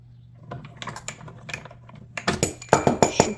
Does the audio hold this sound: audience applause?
no